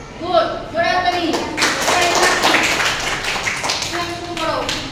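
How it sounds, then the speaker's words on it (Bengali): Schoolchildren clap loudly during an English lesson, a close, rapid run of hand claps filling the middle stretch, with a voice speaking before and after. "গুড, জোরে হাততালি।"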